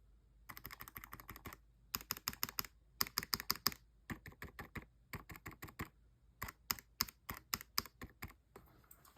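Typing on a Gamakay mechanical keyboard fitted with Jupiter and Venus switches, crisp close keystroke clicks in fast bursts separated by short pauses, with no voices.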